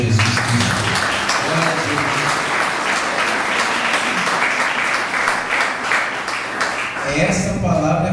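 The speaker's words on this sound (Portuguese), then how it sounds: "Você que crê pode aplaudir o nome do Senhor Jesus Cristo" Church congregation applauding during a sermon, a steady wash of many hands clapping that runs for several seconds, with voices and a preacher's speech mixed in before a fuller burst near the end.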